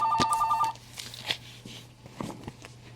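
A telephone bell rings in a quick repeated burst at the start, fairly close, then gives way to quiet room tone with faint handling noises.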